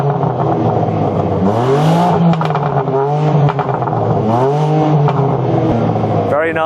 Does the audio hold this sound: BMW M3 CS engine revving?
yes